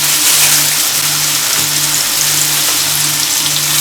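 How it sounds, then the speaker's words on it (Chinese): Sirloin steak sears in a pan over high heat, a loud, even close-up sizzle with faint rhythmic low humming underneath and no talk during it. "大火先煎至来回40多秒、50多秒。"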